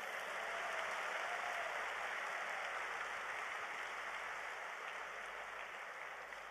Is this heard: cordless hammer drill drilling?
no